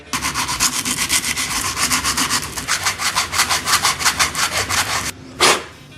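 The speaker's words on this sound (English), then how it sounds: "sand the inside of that until I break through all that paint and get it back down to bare metal" Rolled 80 grit sandpaper scrubs inside a hole in a painted metal part, a loud, rhythmic back-and-forth rasping at a quick even pace, close up, ending with a single heavier stroke.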